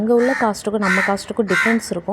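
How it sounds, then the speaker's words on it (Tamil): Crows caw loudly and close by outside a shopping mall in Chennai, their harsh repeated calls overlapping with someone speaking. "இந்த காக்கா இங்கே நாய்ஸ் கொடுத்துட்ருக்கு"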